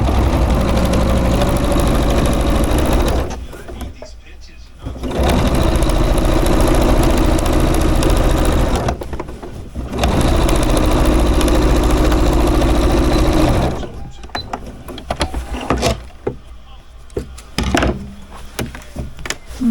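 A sewing machine stitches quilted sweatshirt sleeve strips in loud, continuous mechanical runs of a few seconds each, separated by short pauses, with scattered clicks and handling noises near the end.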